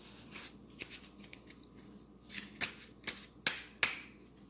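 A deck of playing cards being shuffled at a table, with soft riffling and several sharp snapping bursts as the cards are bridged and tapped, close and fairly quiet, no voices.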